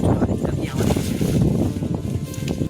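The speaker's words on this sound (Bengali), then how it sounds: "আর প্রচুর হাওয়া দিচ্ছে" Strong wind buffets the microphone in a continuous, heavy low rumble that gusts and swells without pause, with no voices.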